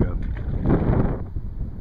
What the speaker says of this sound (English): try and get out of this wind